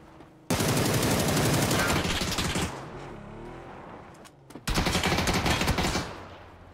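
Rapid bursts of automatic gunfire in an online shooter game, a long loud volley followed by a short pause and a second sustained burst, close and harsh.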